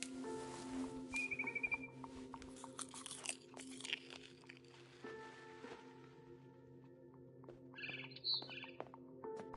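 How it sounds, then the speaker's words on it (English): A barn swallow chirps outside a window in a video game, giving faint, brief high tweets over a quiet ambient bed with scattered soft crunches and clicks. "Then I heard chirping outside my window. It was a barn swallow going back to her nest."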